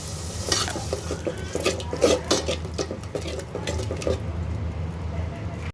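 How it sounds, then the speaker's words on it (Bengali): Spice paste for a goose-meat bhuna is stir-fried with a little water in a pan, bringing steady sizzling with repeated sharp scraping and clinking of a spatula against the metal, fairly close and continuous. "মশলাটা এখন আমি একটু পানি দিয়ে কষিয়ে নিচ্ছি"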